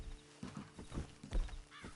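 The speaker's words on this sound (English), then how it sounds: "Then you better get on this horse." Horse hooves clip-clopping in the Red Dead Redemption 2 video game, a run of uneven thudding footfalls close by with a brief whinny-like sound near the end, and no talk.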